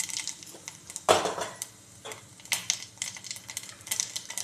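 Soft crackling sizzle of cumin seeds in hot oil, with a sharp clatter of a utensil against a pan partway through.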